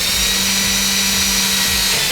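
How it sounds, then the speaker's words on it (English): Steady power drill whine as holes are pre-drilled into a Clinched ducktail spoiler, a continuous close, loud buzz holding for about two seconds with no pauses. "we want to pre-drill the holes on the spoiler"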